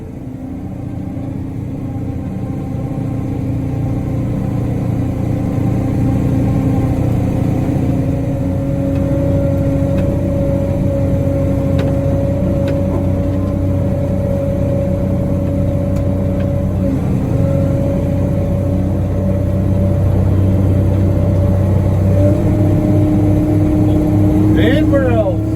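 A Moxy articulated dump truck drives on a ride hauling fill for a horse arena pad, its mid-pitched diesel engine droning steadily and loudly throughout, with a slight rise in revs near the end.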